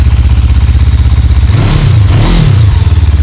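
An SM Sport 400 motorcycle engine is running steadily close by, a loud even idle with a couple of brief blips in revs, no talking over it.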